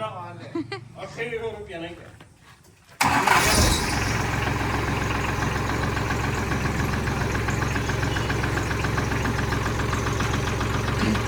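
A farm tractor's engine fires abruptly after a few seconds of talk, then settles into a loud, steady, close idle that fills the rest of the clip.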